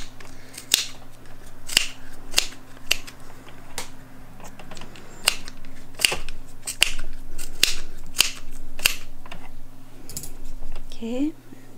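Scissors snip through yarn in a series of crisp, close cuts at an uneven rhythm, with a faint background hum.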